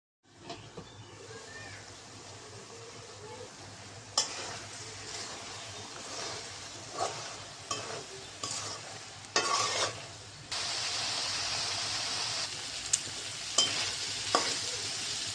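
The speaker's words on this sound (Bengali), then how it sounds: "আলু মশলা শুটকি একসাথে কষিয়ে নিয়েছি" Red potatoes, spices and dried fish are stirred and sautéed in a pan: scraping and sizzling bursts come at irregular intervals, then a louder steady frying hiss takes over, close and without speech.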